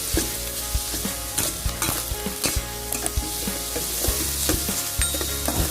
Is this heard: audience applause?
no